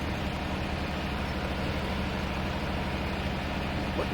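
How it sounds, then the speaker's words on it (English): A steady engine runs at idle in Farming Simulator 17, a continuous low rumble with a constant drone that holds level throughout, close and alone with no voices. "Sounds like an engine's running, besides the truck"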